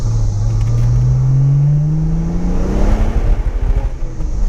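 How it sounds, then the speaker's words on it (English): Broken car being drifted with a faulty drive shaft, its engine droning and rising in pitch, then rough uneven clunking and rattling as the drivetrain slips near the end. "Every time it slips, it's like the drive shaft moves and goes, and we're hearing that"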